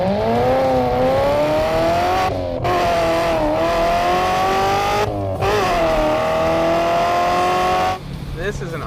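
A Lingenfelter-tuned Corvette sports car engine revs and drives continuously, its pitch climbing and dropping through repeated gear shifts with short breaks between pulls, loud and close throughout.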